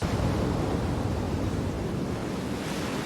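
Ocean waves wash onto a beach in a TV show, a steady loud roar of surf and wind noise filling the whole stretch without any voices.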